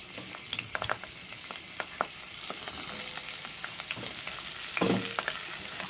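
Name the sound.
bitter gourd pieces frying in oil in a wok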